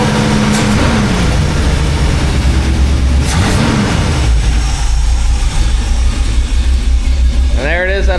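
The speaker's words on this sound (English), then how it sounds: "We'll blip the throttle." A cammed Chevy C10 engine with a Holley carburetor idles low and loud, then gets a quick throttle blip with a rising and falling engine note.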